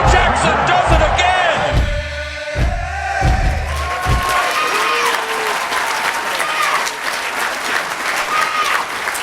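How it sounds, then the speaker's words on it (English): A stadium crowd at the Coliseum roars and applauds after a touchdown at a live awards gala, with loud, sustained cheering and clapping filling the whole stretch, some heavy thumps early on and voices mixed in. "the crowd at the Coliseum is going wild"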